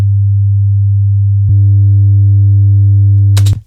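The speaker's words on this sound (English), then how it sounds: "So let's switch from the radial to the signal art reamping box. 100 Hz sine wave" A 100 Hz sine wave runs through a Signal Art reamping box as a loud, steady low hum. Partway through it turns gritty and buzzy with added overtones, then cuts off abruptly with a sharp click.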